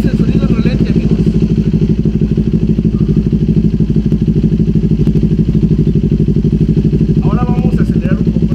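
A Kawasaki Ninja 400 fitted with a Leo Vince LV-10 slip-on exhaust idles close by, a steady, throbbing low rumble that holds even throughout, with a brief voice near the end.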